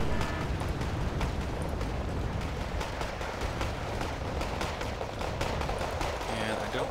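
Dense, continuous battle noise from Wargame Red Dragon as RBS-70 missiles fire at a helicopter, with loud launches and blasts packed together over steady rumbling combat for the whole stretch.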